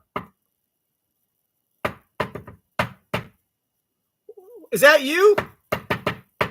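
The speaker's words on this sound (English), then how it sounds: "Did you hear the knock?" Knocking on a house door, several separate bursts of sharp raps spread through the stretch, close and loud, with a short spoken question and a brief voice in between.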